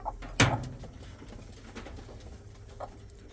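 Pigeons in a loft give soft low coos with a sharp flutter or knock early on and quieter calls later, heard up close against a faint room hum.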